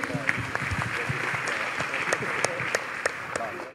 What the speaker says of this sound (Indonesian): Kasih aplaus dulu buat Bro Raymond Chin